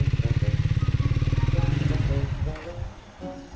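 A motorcycle engine pulses with a rapid, regular thump while climbing a steep mountain road toward a high Himalayan village, then the beat loosens into uneven revs and road rumble.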